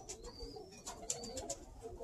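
Birmingham Roller pigeons coo softly in a loft, with several faint murmuring coos and small chirpy notes over quiet room noise, no talk.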